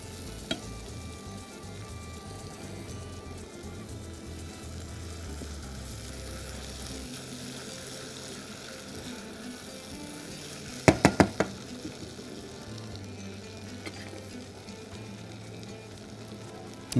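Steady frying sizzle of tomatoes cooking down in a pan, quiet and continuous, with a few sharp knocks of a utensil near the middle.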